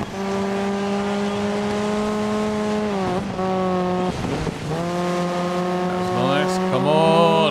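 A Skoda rally car racing in DiRT 5, its engine droning loudly and steadily as it climbs through gears, with brief dips at shifts and a rising rev toward the end.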